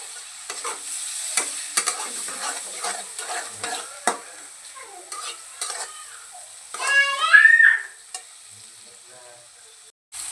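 Turmeric and tomato fry in a pan for ridge gourd chutney, a light sizzle broken by repeated utensil scrapes and taps, then a brief louder clatter near the end.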